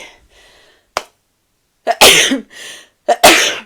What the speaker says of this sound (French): j'ai encore éternué parce que mes allergies